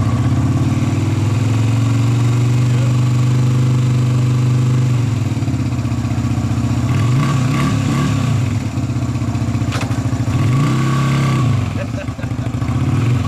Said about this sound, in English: So, cool, cold start, Yep. choke, key on. Probably don't even need the choke. Starts pretty well.